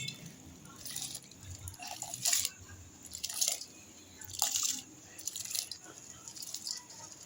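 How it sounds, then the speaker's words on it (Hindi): Rice being tipped into a cooking pot of water in a home kitchen, heard as a series of close splashes and pours in irregular bursts with soft rattling and dripping between them. "तो चावल डालने लगे हैं।"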